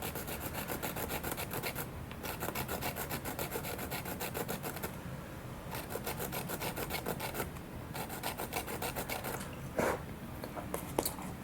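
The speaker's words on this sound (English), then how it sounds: "kind of file the end" Carbon rod end being filed, a continuous run of quick, rhythmic rasping strokes, fairly faint and close, with a few short pauses.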